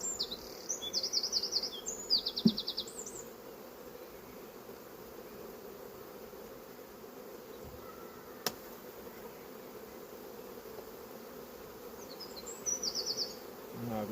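Honeybees disturbed during a hive split give a faint, steady buzz, with short chirping bird calls and a few soft knocks nearby.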